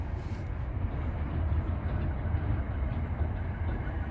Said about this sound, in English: Man, that's a long train.